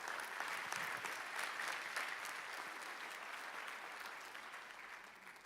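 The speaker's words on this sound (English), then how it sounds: "you should give yourselves a round of applause for that" An audience at an education summit claps steadily, a dense even wash of applause that holds for several seconds and slowly fades.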